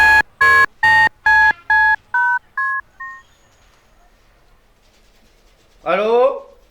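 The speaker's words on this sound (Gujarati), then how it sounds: "મનીષાને ફોન હા કર્યો." Telephone keypad dialing: eight quick, evenly spaced dual-tone beeps, loud and close, fading off, followed by a short burst of a voice near the end.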